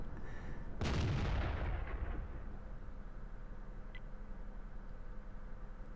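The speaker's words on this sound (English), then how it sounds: "I let another shell go and we get another 360 off him, another good hit." A single heavy tank cannon shot from the FV207 in World of Tanks booms loudly, then its deep rumble decays over a couple of seconds into a steady low engine drone.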